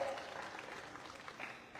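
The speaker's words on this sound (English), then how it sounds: "Please welcome him with a big round of applause." Applause from an audience, a steady patter of clapping heard from a distance, fairly faint and continuous.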